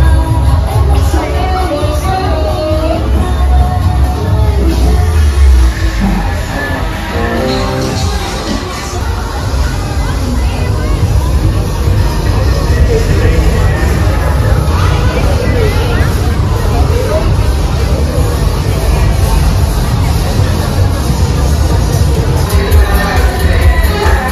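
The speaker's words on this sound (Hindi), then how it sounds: "रात को यहाँ कितनी भीड़ थी" Dense crowd hubbub on a busy walking street at night in Ho Chi Minh City, a loud continuous wash of many overlapping voices with occasional whoops and bangs, close and enveloping.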